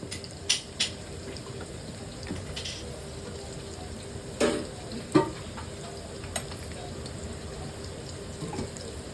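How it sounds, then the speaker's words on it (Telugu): Mutton kheema balls fry slowly in oil over a low flame, giving a soft, continuous sizzle. Occasional sharp clinks and scrapes of a utensil stand out, and no one speaks. "ఇది సిమ్ మీద ఫ్రై చేసుకోవాలి."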